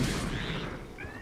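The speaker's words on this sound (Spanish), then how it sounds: "Les doy un gracias con una explosión de Bokoblin." A Bokoblin explodes in Zelda: Breath of the Wild, a loud, sustained blast with rumbling debris that fades slightly, followed by a brief high whistling tone.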